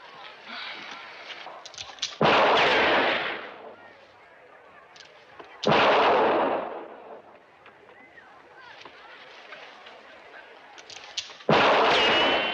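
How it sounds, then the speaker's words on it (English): Guns fired in a Western cowboy setting, three loud, near booming shots spaced several seconds apart, each with a long decaying tail over rustling background noise. "Let your gun come to a complete stop before you fire."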